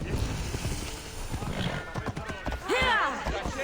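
A horse in the video game Assassin's Creed Odyssey whinnies in a rising, wavering call near the end, following a stretch of hoof clatter and game ambience, with someone talking over it.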